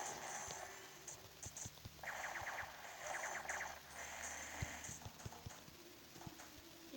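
A donkey's hooves clip-clop on hard ground, a string of sharp, evenly spaced knocks heard at a moderate distance over faint background noise.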